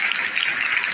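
Applause at a school naat recitation competition: a brief burst of dense, even clapping from an audience, loud and close.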